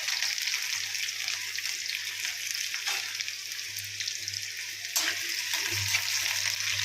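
Onions sizzle in hot desi ghee in a pan, a steady, close bright hiss with a faint low hum beneath and an occasional soft clink, with no talking.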